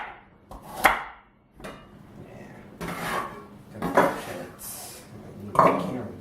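Knife chopping carrots on a board for chicken tortellini soup: several separate cuts with crisp thuds and scraping at irregular intervals, fairly close and alone, with no talk.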